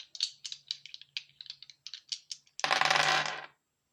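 Dice rattled for a tarot and astrology reading, a run of sharp clicking knocks as they are shaken, then a dense clattering burst as they tumble out and settle, close and clear.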